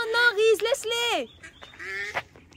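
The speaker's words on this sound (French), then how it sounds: "je suis allée donner à manger aux poules d'eau et aux canards qui sont à côté" Moorhens and ducks by the water give loud, nasal honking and quacking calls in several bursts, close by, with a voice briefly heard among them.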